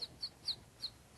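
A person whistles an imitation of a bird call: four short, high, chirping notes evenly spaced and close by, with no talk.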